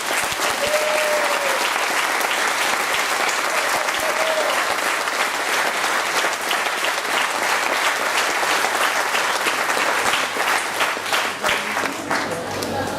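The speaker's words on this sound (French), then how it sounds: "Je vous demande de les applaudir." Sustained applause from a large crowd at a Corsican international political gathering in Corte, a long even roar of clapping with a voice faintly heard early on.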